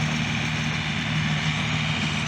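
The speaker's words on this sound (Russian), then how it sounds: "Вот такой мини-трактор пашет землю." A small mini tractor engine runs steadily while plowing garden soil, giving a continuous close drone with a low hum and no breaks or talk.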